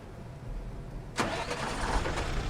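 A truck engine in the SnowRunner video game cranks and catches with a sudden burst, then settles into a loud, rough, rumbling idle that continues to the end.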